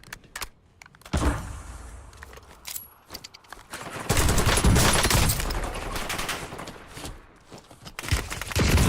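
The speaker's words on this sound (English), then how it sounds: "Taking fire over here." Gunfire in a battle royale video game: rapid automatic bursts and scattered single shots crackle through a loud, dense firefight, with sustained heavy fire in the second half.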